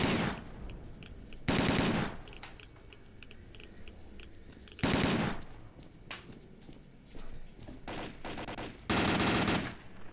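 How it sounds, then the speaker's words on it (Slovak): Bursts of machine gun fire from the video game S.T.A.L.K.E.R. Call of Pripyat, four loud rapid volleys separated by quieter gaps with scattered single shots and faint footsteps between them. "Kde strieľaš?"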